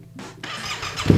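Yamaha Ténéré 700 motorcycle starting up, a short starter crank whirring into the engine catching with a rising low rumble, close and loud.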